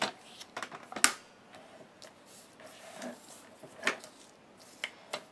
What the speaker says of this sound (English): So I'm going to cut this down using my paper trimmer.